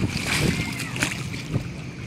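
Tidal water splashes against a government speedboat garage dock in Banjarmasin during high tide, a steady wash with a few louder slaps, while people talk nearby.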